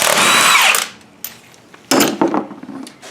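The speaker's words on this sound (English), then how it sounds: "Take the lug nuts off." Impact wrench loosening lug nuts on a Ford Thunderbird wheel during a front suspension overhaul: a loud, close whirring burst, then a short pause and a second rattling burst with clanks.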